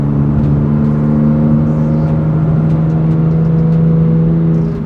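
A BMW M4 GTS with an S55 engine and aftermarket exhaust holds a steady, droning rev around 3,000 RPM, a loud continuous hum heard from inside the car with no talk.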